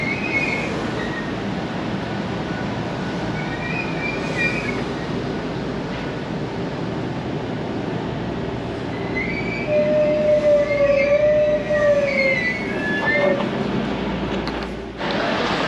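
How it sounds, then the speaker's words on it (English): An EMR passenger train pulling into London St Pancras station, a steady low rumble under the station roof with faint wheel squeals and a high brake whine rising toward the end, heard from the platform. "An EMR service arriving."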